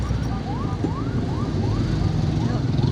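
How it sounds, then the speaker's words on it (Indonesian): Ambulance siren on a city road, a repeating rising wail cycling roughly every half second over traffic rumble and engine noise, fairly close and steady. "kasih dulu ambulan"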